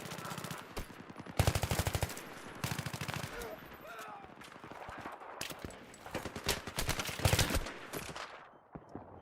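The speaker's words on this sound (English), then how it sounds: "He's using a shotgun." Gunfire in Battlefield 3 on PS3, reported as a shotgun, comes as loud, close bursts of repeated shots across most of the stretch, with voices faintly underneath.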